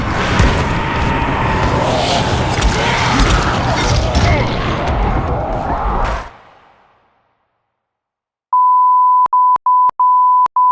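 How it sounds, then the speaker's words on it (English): Loud, busy noise cuts off abruptly, followed by a short silence and then a string of sharp, steady censor beeps, five in quick succession. "Those beeps you just heard cover up my thoughts on what we just saw"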